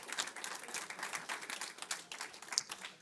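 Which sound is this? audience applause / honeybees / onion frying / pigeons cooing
audience applause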